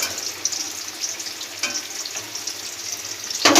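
Potatoes frying in a pan during home biryani cooking produce a close, crackling sizzle with small irregular pops and a brief louder burst at the end.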